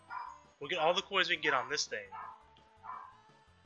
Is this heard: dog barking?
yes